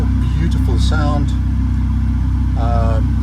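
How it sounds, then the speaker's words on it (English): A Ferrari 488 Pista Spider idles loudly just after start-up, a steady deep engine drone, while someone speaks over it. "There's that traditional Ferrari roar, beautiful sound."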